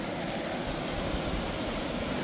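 A stream flows beside a trail bridge on the West Coast Trail, a faint, steady wash of rushing water with no other sounds over it.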